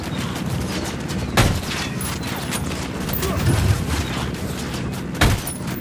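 Gunfire in the video game Ghost Recon Wildlands during a firefight with an enemy helicopter, sharp bursts cracking out at irregular intervals over a dense, continuous battle rumble.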